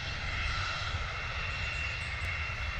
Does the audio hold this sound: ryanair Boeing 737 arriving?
yes